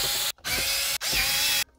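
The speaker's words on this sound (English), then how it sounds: "Now you're looking to take out the four Torx screws holding the head unit in place." Power driver removing Torx screws from the sat nav head unit of an MK2 Seat Leon Cupra, heard as two close, loud, steady whirring bursts separated by a brief pause.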